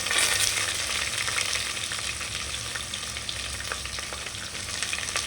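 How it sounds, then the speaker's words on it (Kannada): Chopped onions frying for pulao in a pan, a steady dense sizzle that holds evenly throughout with faint stirring ticks, no talk. "ಸ್ವಲ್ಪ 2-3 ಹೆಚ್ಚಿರೋ ಈರುಳ್ಳಿ ಹಾಕ್ಬಿಟ್ಟು"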